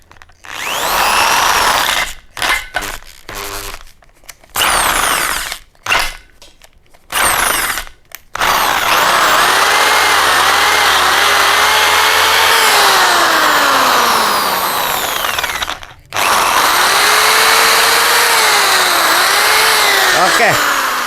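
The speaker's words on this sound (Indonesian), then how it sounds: "8 mili kita tinggal bor" A power drill bores an 8 mm hole during a handlebar upgrade on a Yamaha XMAX Connected scooter: first choppy start-stop bursts, then a long, loud, whining run with shifting pitch under load.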